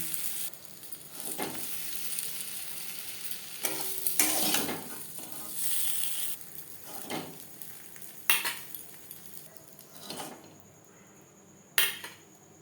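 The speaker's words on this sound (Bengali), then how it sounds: "কাঁকরোল হালকা করে ভেজে নেওয়া হয়ে গেছে একটা পাত্রে উঠিয়ে নেব" Spiny gourd (kakrol) pieces frying lightly in oil in a pan, a steady close sizzle broken by metal spatula scrapes and clinks against the pan, with no talking.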